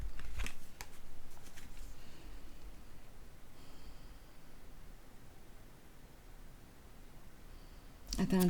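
Tarot cards being drawn and handled during a reading, with quick shuffling and rustling bursts at the start and end and quiet, faint paper handling in between.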